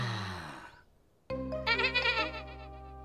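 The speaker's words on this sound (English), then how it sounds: "It's a lamb." A cartoon lamb stuck up a tree gives a long, wavering bleat, close and clear, after a brief fading sound and a moment of near silence.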